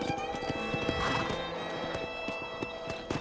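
A horse's hooves clop through a narrow, cramped passage between walls in Red Dead Redemption, with a brief whinny amid the quick, close hoofbeats.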